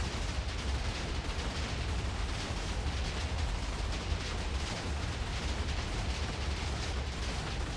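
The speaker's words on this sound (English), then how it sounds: "It's probably all these explosions." A dense, continuous barrage of booming blasts and crackling bursts in modded Minecraft, loud and unbroken throughout.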